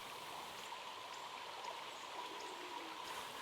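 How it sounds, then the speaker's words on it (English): Saskatoon Creek running west to east through farmland, a faint, steady trickling flow with soft bubbling detail, heard alone and continuous for a few seconds. "Saskatoon Creek digs itself deep."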